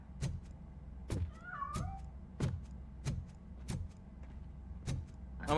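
A cat meows once in the RoboCop: Rogue City video game, a short warbling cry heard between heavy, evenly spaced mechanical footsteps over a low steady game hum.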